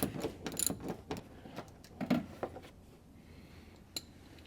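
A wrench works a 10 mm bolt loose from the rear bumper of a Nissan 350Z, with a series of faint metallic clicks and ratcheting taps that are irregular at first, then sparse, no voices.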